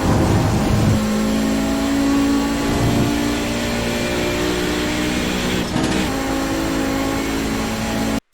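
Audi 90 GTO engine at full throttle on Road America in iRacing, a loud, sustained high-revving drone with steady harmonics, a brief dip near the middle and an abrupt cutoff at the end.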